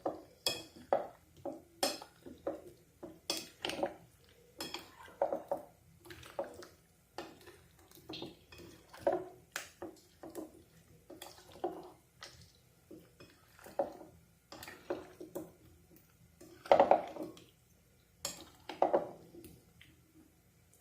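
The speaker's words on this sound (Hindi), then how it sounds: "हाफ बॉयल आलू जो हैं वो ऐड कर लेंगे और अच्छी तरह से मिक्स करेंगे ताकि बैटर जो है वो सारे आलूओं" Half-boiled potatoes being stirred into batter in a bowl for potato wedges, giving a quiet, close series of irregular clinks and scrapes of a utensil against the dish, with faint wet mixing between them.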